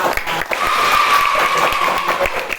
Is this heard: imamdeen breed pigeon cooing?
no